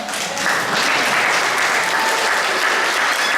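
A church congregation at a healing service claps hard together, a loud, thick wash of applause that swells in after a moment and holds steady to the end.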